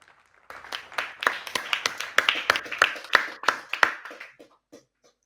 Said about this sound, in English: I ask you for a warm welcome and a round of applause to Hugo Carvalho, CEO of Diamwall.